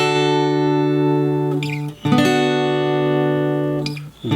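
An acoustic guitar in standard tuning plays the intro of a song in D, with sustained, ringing strummed chords and two brief gaps where the chords change, no voice over it.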